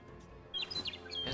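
Bird card chirps in the digital card game HEX: Shards of Fate, a few quick high tweets over a low game soundscape, fairly close and clear, with no talking.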